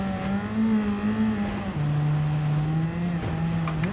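Engine of a car driving on a dirt track in the racing game Gran Turismo 7, droning steadily at high revs, then dropping in pitch as it shifts gear, loud and continuous.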